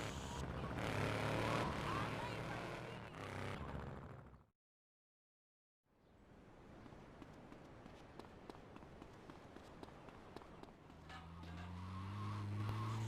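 A Cuban Hermes driving in GTA Vice City Stories around Little Havana, engine noise with tire skids, a sudden cut to silence midway, then driving resumes with a rising engine note.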